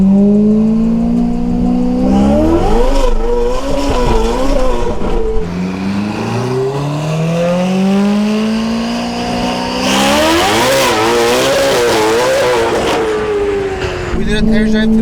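A Porsche Taycan electric car accelerates hard on a test drive, its motor whine rising steadily in pitch through several surges with tire and road noise building around it, loud and close, no talk.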